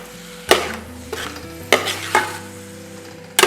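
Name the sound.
beef being stirred and fried in masala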